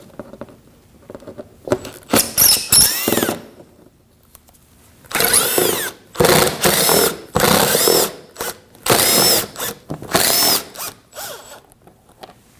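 A power drill backs out 5.5mm screws from the front valance panel of a 2015-2024 Ford Edge in about six loud, close whirring bursts, with short quiet pauses between them.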